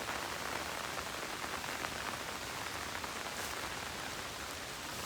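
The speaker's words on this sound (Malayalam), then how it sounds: "മഴ പെയ്യുന്നുണ്ട്" Steady monsoon rain pours down on a rubber estate, a dense, even hiss of drops on surfaces filling the whole stretch with no voices over it.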